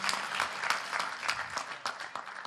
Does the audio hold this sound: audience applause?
yes